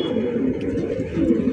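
Large racer pigeons cooing together in a loft, a dense, steady low murmur of overlapping coos that fills the short stretch without pause.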